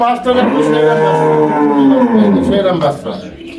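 A long, loud dairy cow moo drawn out for a few seconds close by, with a person speaking briefly at the end.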